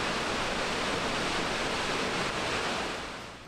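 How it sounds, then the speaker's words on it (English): Salt Creek Falls roaring over its edge, heard from a viewing platform as a constant broad wash of falling water, loud and unbroken, easing slightly at the end with no talk. "Salt Creek is just powerful. You can feel the intensity from the viewing platform as it roars over the edge."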